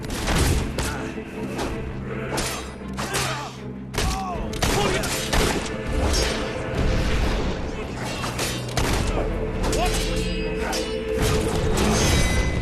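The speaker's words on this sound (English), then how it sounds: "Keep firing!" Gunfire in the Fable 3 video game on Xbox 360 pops in rapid, repeated volleys with thuds and booms, a loud, busy battle sound continuing throughout, under intermittent voices.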